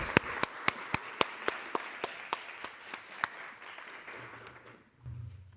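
Applause fills a symposium hall after opening remarks, with a wash of many hands and one near clapper's sharp, regular claps standing out. It fades over about five seconds before a voice begins.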